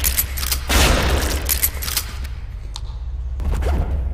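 Shotgun blasts in a demon-fighting video game, a few heavy booming shots with rumbling tails, loud and close, separated by quieter gaps.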